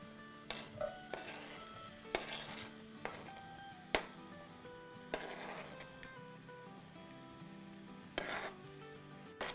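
Tomatoes stirred into sautéed garlic and onion for pizza sauce, a steady sizzle broken by repeated sharp spoon scrapes and knocks against the pan, close and clear.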